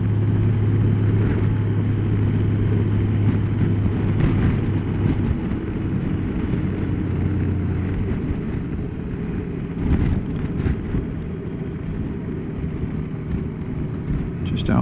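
A motorcycle rides along a road in the morning, its engine drone and wind rush running steadily and close throughout.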